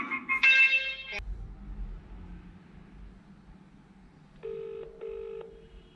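Touch-tone phone keypad dialing: a quick run of DTMF beeps, then a low hum, then two more short evenly spaced tones, heard close and fairly clear with background noise and no talk.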